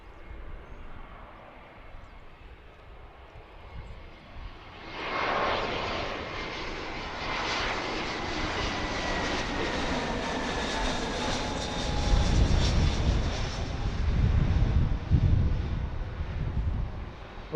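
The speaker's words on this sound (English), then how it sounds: "Oh, it's a Blue Angel." A Blue Angel jet flies overhead, rising from a low background hum to a loud, sweeping roar with a descending whine, then a deep rumbling tail of noise as it passes.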